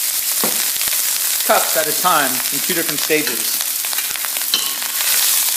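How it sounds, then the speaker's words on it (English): Rice sizzles and crackles in hot oil in a pan, a dense continuous frying hiss heard under a person speaking throughout. "When the rice hits the pan from the oil, you want to flatten it out."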